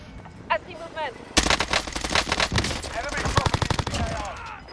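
Rapid bursts of automatic gunfire from a Call of Duty Warzone Resurgence match, dense and loud after a short quiet opening, with a few game effects and a brief voice underneath.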